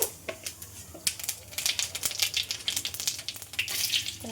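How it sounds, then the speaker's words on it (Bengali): Bay leaf, dried chilli and whole cumin sizzle and crackle in hot oil, a busy, close spitting fry with irregular pops and bursts that swell and fade over a few seconds. "আমি তেজপাতা, শুকনো লঙ্কা, গোটা জিরে ফোড়ন দেব।"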